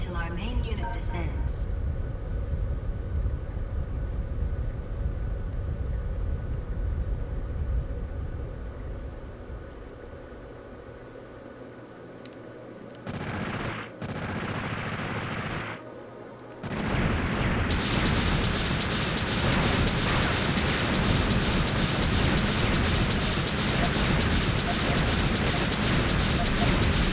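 Explosions and gunfire roar from the shooter game Einhander, a dense, continuous wash of blasts that drops briefly to near silence midway before surging back loud and sustained, with a voice talking over the opening.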